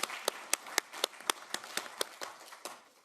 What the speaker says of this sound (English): Yes, you deserve the applause